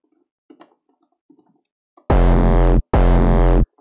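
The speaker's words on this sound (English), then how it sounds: "So that's too much distortion in this case." Two loud, heavily distorted 808 bass hits shaped by the Sytrus wave shaper, each a sustained buzzing boom that slides downward in pitch. Quiet mouse clicks come first, and a short gap falls between the two notes.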